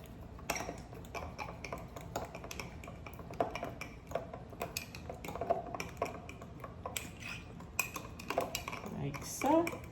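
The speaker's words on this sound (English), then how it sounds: "So I'm just gonna stir it up." A spoon stirring an overnight-chilled mixture in a bowl, with irregular clinks and scrapes against the dish, fairly quiet and close, with small knocks scattered throughout.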